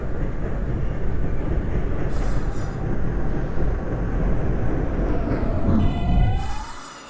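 An R160 New York subway train on the F line, recreated in the OpenBve train simulator, rumbles steadily on board between 63rd Street and 21st Street–Queensbridge, ending with a rising brake squeal as it slows to a stop.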